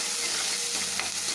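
Shallots and turkey berries sauté in a pan with a brief, close, dense sizzling hiss, steady and bright throughout the short moment.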